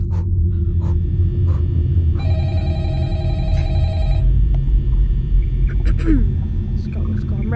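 In the Five Nights at Freddy's video game a telephone rings with a steady electronic trill for about two seconds, heard over a loud low rumble of game ambience.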